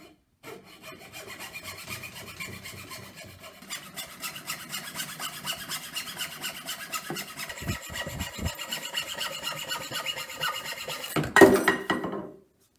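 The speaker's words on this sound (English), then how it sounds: "So I got my handsaw right here and I'm going to cut it right where I marked it." A handsaw cuts through wood, a close, continuous rasping run of strokes lasting several seconds and building gradually, ending with a louder scrape.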